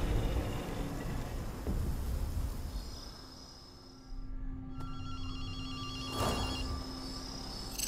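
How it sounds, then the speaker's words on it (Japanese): A telephone rings in the game Ghostwire: Tokyo, a repeating electronic trill that starts faint and grows clearer over eerie ambient drones, with no one speaking. "電話の音が聞こえないか。"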